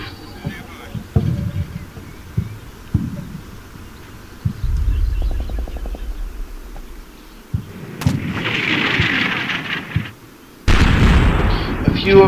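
Enemy troops open fire in the Combat Mission: Shock Force war game, heavy booming shots and bursts of gunfire scattered across the scene, some near and loud, with a voice talking in places.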